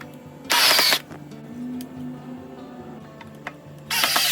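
A power drill drives screws through metal hairpin table legs into a wooden board, two loud, short whirring bursts separated by quieter shuffling and handling noises close to the microphone.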